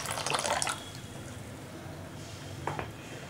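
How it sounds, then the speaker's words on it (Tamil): Tamarind water is poured into ground chili paste in a home kitchen while a gravy of drumstick leaves is being made, giving a short, splashy liquid gush at the start and a second brief pour near the end. "இதில் வந்து புளி தண்ணி ஊற்றிக்கலாம்."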